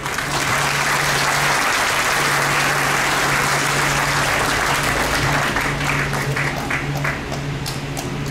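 Loud, sustained applause from a concert audience after a mezzo-soprano's song at a symphonic concert, dense steady clapping filling the whole stretch with a low hum beneath.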